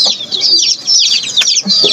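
A chicken clucks close by in a quick run of sharp, high calls, several bursts in a row.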